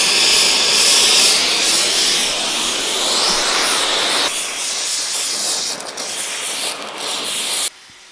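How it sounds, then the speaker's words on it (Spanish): An oxy-gas torch flame roars with a steady, loud, broad hiss as it heats the sheet metal of a truck bumper under restoration, dropping slightly in level midway before cutting off abruptly at the end. "Y aquí voy yo abriendo o cerrando y voy haciendo una mezcla para que la llama sea más fuerte o más floja."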